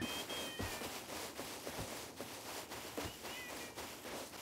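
A cat meows repeatedly during a Rust game session, short high wavering calls recurring every second or so over constant background noise and occasional thumps.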